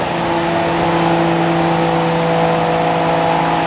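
A car with a Nissan RB30 engine, built to around 580, holds a loud steady high rev, its droning tone sustained without a break.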